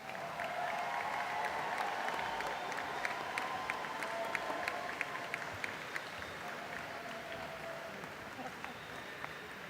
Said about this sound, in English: Again, a round of applause for all of the graduates today.